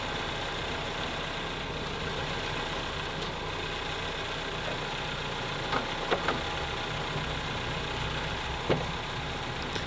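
An abandoned 2007 Ford Focus 1.6 Ti with a completely dead battery runs at a steady, noisy, rattly idle, close by, with a few sharp clicks and knocks rising above the engine hum.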